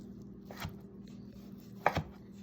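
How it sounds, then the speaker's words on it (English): Knife cutting cooked five spice beef on a board, two sharp chops a little over a second apart, the second a quick double knock, over a low steady hum. "All I'm going to do is cut it and serve, ready to serve."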